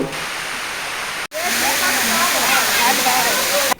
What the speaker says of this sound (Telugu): ఎటు చూసినా పచ్చని ప్రకృతి పక్షుల కిలకిల రాబాలు జలపాతం హోరు సెలయేటి గలగలలు